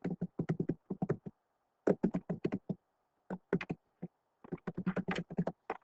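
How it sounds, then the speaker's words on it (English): Keys on a computer keyboard clatter in quick bursts of tapping separated by short pauses, close and fairly faint in an otherwise quiet room with no speech. "I'm going to type it out."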